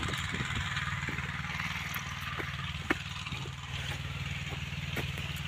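A Mahindra tractor runs in a farm field while pulling a cultivator, giving a steady low diesel chugging drone at moderate distance, with no speech.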